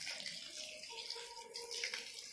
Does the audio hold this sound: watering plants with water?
yes